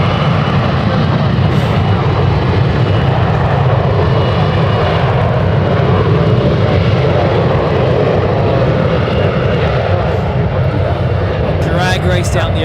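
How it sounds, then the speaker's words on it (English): Airliners take off from a runway at San Francisco International Airport, a loud, steady roar of jet engines that fills the whole stretch without a break, with a faint radio voice briefly at the end. "runway 1 left, clear for takeoff"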